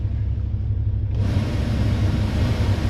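A vehicle HVAC blower motor kicks on after a blower motor resistor replacement, a steady rumbling whoosh of air that swells up about a second in and holds evenly loud to the end.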